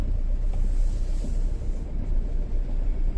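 Steady low rumble of a car driving, a continuous muffled engine and road drone heard from inside the vehicle.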